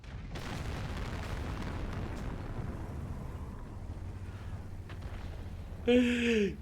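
Artillery shell explosions in World of Tanks rumble as a dense, continuous low roar, with a brief sharper burst near the end.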